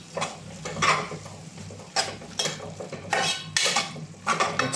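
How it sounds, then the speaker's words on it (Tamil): Black pepper chicken gravy is stirred in a pan, a spoon scraping and clinking against the metal in repeated strokes over a soft sizzle, close and fairly loud. "சரி, எல்லாத்தையும் பொறுமையாக மிக்ஸ் பண்ணிக்கலாம். ஒரு 20 செகண்ட் மிக்ஸ் பண்ணால் போதும்."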